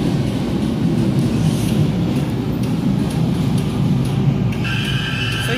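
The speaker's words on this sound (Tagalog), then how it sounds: "nandito na yung tren" A train arriving at a station rumbles steadily close by, with a high metallic squeal rising near the end as it slows.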